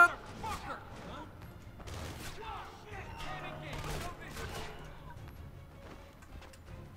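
Gunfire in the video game Splinter Cell Conviction crackles in scattered sharp bursts and volleys at moderate distance, with a voice talking over parts of it.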